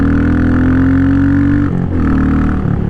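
Royal Enfield Meteor motorcycle set up as a dirt bike on Shinko tires, its single engine droning loud and close through the muffler with a steady harmonic hum, dipping briefly as the revs change before settling back.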